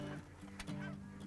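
Snow geese flying close in front of hunters, giving a few loud honking calls in quick succession.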